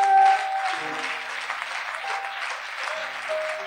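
A church congregation applauding loudly and steadily, a dense wash of clapping near the listener with faint sustained tones beneath.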